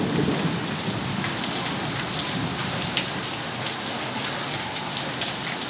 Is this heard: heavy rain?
yes